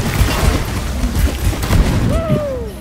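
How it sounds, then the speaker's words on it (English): A bomb explodes in the video game Deep Rock Galactic, a dense booming blast with rumbling debris, followed by a falling whistling tone as it fades. "Explosion. He felt that one."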